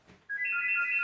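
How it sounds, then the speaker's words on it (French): A telephone rings indoors with an electronic trilling tone that starts abruptly and holds steady, loud and close, with no one speaking. "Oh, bah le téléphone, ça attendra."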